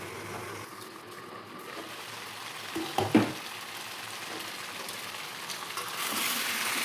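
Chicken kosha being stirred and fried in a pan makes a soft, steady sizzle with a short clatter of stirring near the middle.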